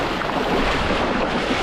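A strong river current rushing past, heard as a steady, loud broadband wash of water with wind buffeting the microphone, continuous across the short moment with no voices.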